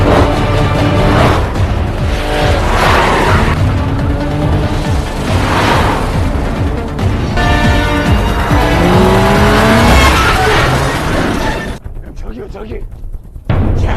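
Film car chase ending in a three-car crash: loud, continuous engine roar with tire squeals and sharp impact-like bursts, briefly dropping away near the end before resuming.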